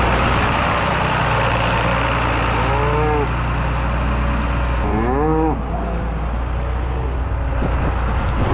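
Cattle moo twice, drawn-out and fairly near, over the loud steady rumble of an idling tractor in a pasture.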